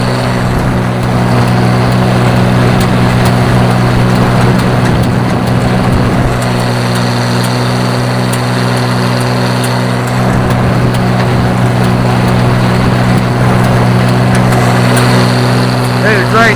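An Oliver 1800 tractor pulling a 129 haybine cuts hay in a field at about 2.5 mph in high second gear, wide open. The engine drones loudly and steadily the whole time, with a dense mechanical hum and no speech.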